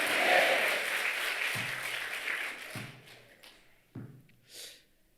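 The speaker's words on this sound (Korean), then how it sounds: "하나님께 박수 한번 해요." A church congregation at an evening revival service claps for about three seconds, a dense burst that fades out, followed by a few isolated thumps and taps.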